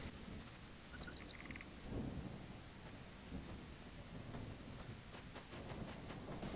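Rain and thunder in a survival video game: a steady wash of rainfall with low rumbling thunder throughout, plus a few brief chirps, with no talking.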